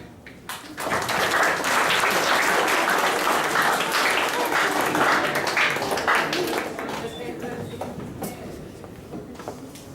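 Sustained audience applause after a university-style lecture on electronic money, a dense, loud wash of many hands clapping that fills the room for most of the span before thinning slightly toward the end; voices murmur beneath it.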